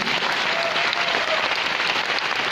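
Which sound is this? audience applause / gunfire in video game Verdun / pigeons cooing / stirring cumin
audience applause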